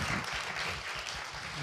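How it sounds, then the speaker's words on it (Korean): Brief burst of applause from a small group on a Korean talk show, steady clapping filling the moment with a low voice murmuring underneath. "박수 일단"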